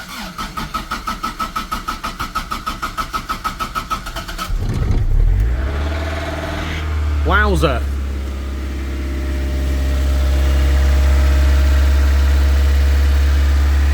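A Toyota MR2 Mk1a engine cranks rhythmically several times, catches and fires up, then settles into a loud, high idle around 2000 RPM; a man briefly exclaims mid-start.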